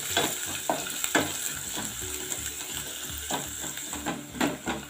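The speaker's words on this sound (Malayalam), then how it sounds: "അതിനുശേഷം നമ്മുടെ ഉള്ളി ചേർത്ത് കൊടുക്കാം" Onion frying in a pan for a Kerala-style pulingari, with steady loud sizzling and the repeated scrape and clatter of a spoon stirring through it, no voices.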